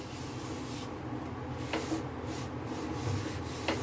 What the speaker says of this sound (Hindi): टिश्यू पेपर से इसको हम अच्छे से सारे में स्प्रेड कर देंगे ऐसे